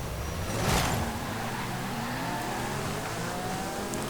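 An Italian V8 car engine in Forza Horizon 5 drones steadily at moderate volume, with a brief swell early on, sounding like a racing game's engine with no talking.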